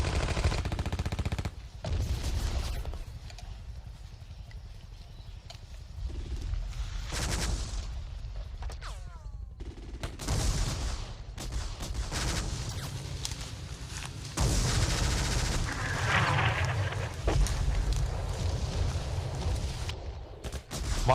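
Heavy gunfire and machine-gun bursts in a Vietnam War battle, NVA troops firing on a tree line, with rapid volleys, sharp shots and booms rolling on and off at close to middle distance, loud and continuous with no talk.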